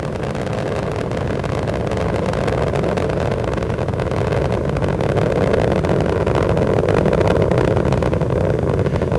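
Space Shuttle Endeavour's three liquid-fuel main engines roar during launch toward Hubble, a loud, steady, broadband rumble that holds without a break and swells slightly toward the end.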